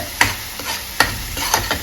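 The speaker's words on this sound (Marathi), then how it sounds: "ते टाकले आणि आता ते आपण छान भाजून घेऊया" Whole dry spices tempering in hot oil for a chana palak dish: a steady sizzle in the pan with sharp scraping stir strokes roughly every half second to second, close by and with no talking.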